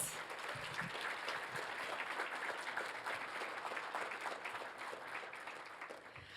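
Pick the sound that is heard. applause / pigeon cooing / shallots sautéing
applause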